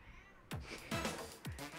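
A cat meows three times in quick succession, each call loud and close, rising and falling over a quiet background.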